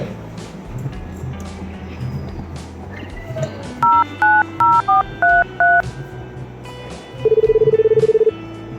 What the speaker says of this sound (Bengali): তো ফোন করে দেখি